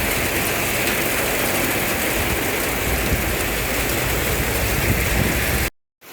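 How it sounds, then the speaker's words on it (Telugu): Heavy rain pours steadily in Guntur, a dense, loud, continuous hiss and patter that fills the whole clip with no voices and cuts off abruptly near the end. "ఈ రోజు తెల్లవారుజాము నుంచి కురుస్తున్న వర్షాలు ప్రజలు అనేక ఇబ్బందులు గురయ్యాయి"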